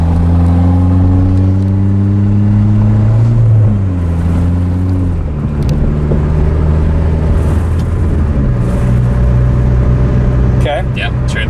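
A PT Cruiser GT engine revs up and drops back as it is rowed through the gears, loud and near, with pitch climbing and falling between shifts while people talk over it.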